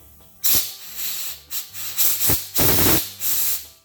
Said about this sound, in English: Put a little compressed air through that inlet and see if we got anything.